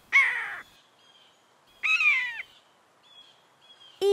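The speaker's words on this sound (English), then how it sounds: "Oh, look, it's a baby eagle." A baby eagle call, two loud harsh screeching cries about two seconds apart, then faint thin peeps and a sharp cry right at the end, alone against near silence.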